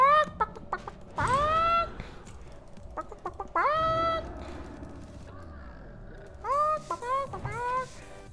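A video game chicken clucks and squawks in short bursts with rising, sharp calls, loud and close, with sparse clicks and faint background noise between.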